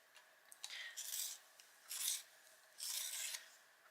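A sepia coloured pencil being turned in a small sharpener, giving three or four close, quiet grinding scrapes with brief pauses between them.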